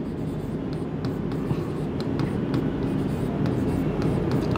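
Marker or chalk strokes on a board during a trigonometry math class, a steady scratchy writing texture with short repeated strokes throughout, set against a constant low room hum.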